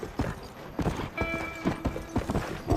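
Horse hooves clop in a quick uneven rhythm across the ground in the Red Dead Redemption video game, close and moderately loud, with a faint whinny-like tone partway through.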